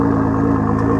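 A stock car's factory exhaust rumbles steadily at idle, a loud, even low drone close by with no talking over it.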